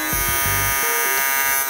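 A Madeshow electric shaver rated at 6.5 watts runs steadily for just under two seconds, giving a loud, close, continuous high-pitched buzz with a slight wobble in pitch and no talking over it.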